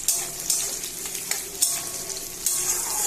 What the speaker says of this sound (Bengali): সেই তেলেই আমি এই চাউমিনটা রান্না করব। পেঁয়াজ আর কাঁচা লঙ্কা